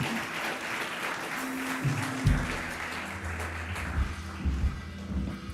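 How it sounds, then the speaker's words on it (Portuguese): Church congregation giving applause to the Lord during a sermon, a moderate wash of many hands clapping that carries on steadily, with occasional low thumps and tapping beneath it. "Dá uma salva de palmas ao Senhor"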